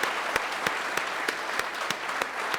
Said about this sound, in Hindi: उनके लिए तालियां होनी चाहिए।